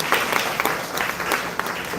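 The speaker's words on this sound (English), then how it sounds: "give a round of applause for all the staff and everybody a part of their team" Audience clapping for CYP Club staff in an event hall, steady moderate applause from many hands throughout, with no voices over it.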